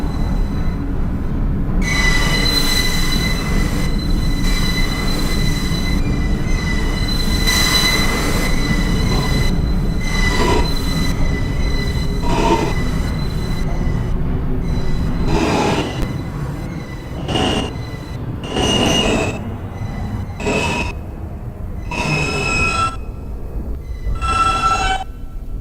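A Queens-bound F local subway train runs via Roosevelt Island, its steady loud rumble and clatter building into repeated high wheel squeals near the end.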